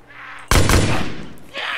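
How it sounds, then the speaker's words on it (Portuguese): Gunshots fired at zombies in DayZ, two sharp, loud cracks in quick succession that ring out and decay over about a second, with game ambience before and after. "É dois tiros na cabeça aqui, pessoal, pra matar os zumbis."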